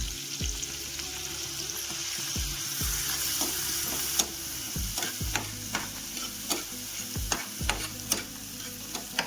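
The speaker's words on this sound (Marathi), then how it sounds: "कांदा छान यायला परतून घेते" Chopped onion and green chili sauté in hot oil, with a continuous sizzle and repeated sharp scrapes and knocks of a spatula stirring the pan, fairly close and without talk.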